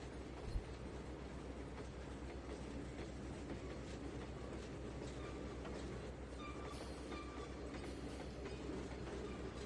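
A train pulling coal hoppers in Trainz 2019 rolls steadily with a continuous rumble and faint clickety-clack of wheels, moderately loud and unbroken throughout.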